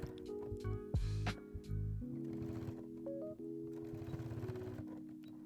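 A sewing machine stitching the bias binding on a small crossbody bag, sewing in short, quiet bursts of mechanical whirring with brief pauses between runs, heard up close in a calm room.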